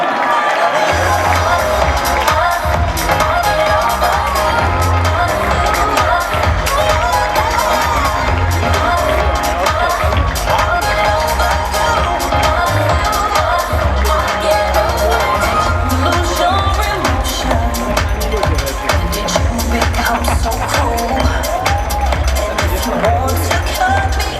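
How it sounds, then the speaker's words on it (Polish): A large audience cheers and applauds the newly crowned Miss Polonia 2016, a loud continuous roar of clapping and shouting that holds steady throughout, with music and voices mixed in. "Wielkie Państwa brawa!"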